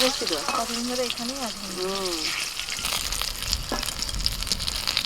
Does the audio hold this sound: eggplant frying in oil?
yes